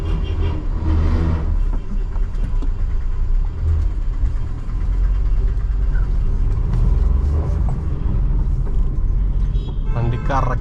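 A taxi car on an Uber trip in Kochi is driven and turned around, its engine running steadily close by with a slight rev rising near the end. Road noise continues beneath occasional speech.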